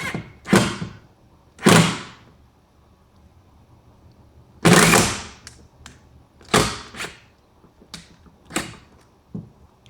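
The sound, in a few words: screw being driven in while mounting solar inverter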